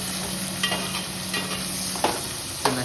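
Chopped onion, tomato and chili fry in a pan, a steady close sizzle broken by occasional scrapes of a spatula stirring the mixture.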